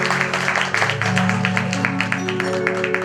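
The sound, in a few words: audience applause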